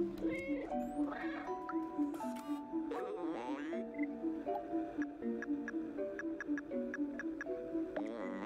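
A cat in the video game Stray meows repeatedly and insistently, layered over a tonal game soundtrack, with faint ticking sounds in the background.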